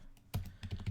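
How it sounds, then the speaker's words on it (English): Rapid typing on a computer keyboard, a quick close-up burst of clustered key clacks after a brief lull, several strokes landing in fast uneven succession. "Listen to me gallop across the keyboard at mock speeds."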